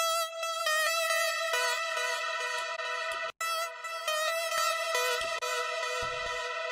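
A synthesizer sustains bright, buzzy chords, heavily compressed with OTT at extreme settings and with the bass cut away. The sound is thin and harmonically dense, with a brief dropout midway and a few soft clicks.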